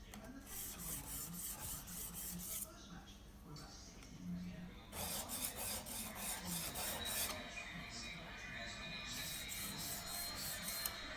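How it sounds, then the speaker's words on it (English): A chisel is honed on a sharpening stone, rubbing first the back and then the bevel. It makes repeated rhythmic rasping strokes, close and steady, while a voice talks alongside. "So once again, rub the back and then the bevel."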